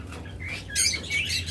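Local-breed pet birds chirp and tweet in a few short bright bursts, fairly close, over a low steady background hum with no talking.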